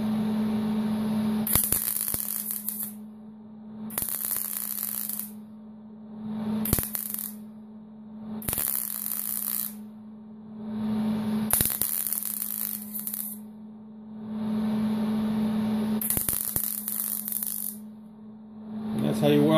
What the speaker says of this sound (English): And that's how you weld up a hole